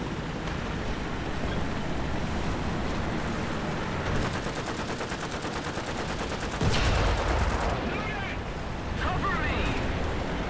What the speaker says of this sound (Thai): ปืนกลของไอ้หมอนี่ไม่ค่อยโอเคเท่าไหร่อ่ะมันยิงย้อยไปหน่อยอ่ะ